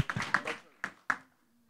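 A few brief claps from an audience after a French-speaking host's request, starting as a short scattered burst, then two isolated sharp claps, fading into near silence.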